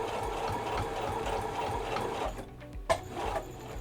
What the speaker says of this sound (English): Now is over the pleats I do back stitch just to secure